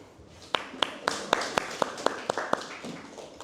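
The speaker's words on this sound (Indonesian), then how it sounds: "Oke, tepuk tangan." About ten distinct hand claps ring out in a steady, slightly uneven rhythm in a classroom, sharp and fairly close, with a quiet room behind them and no talking.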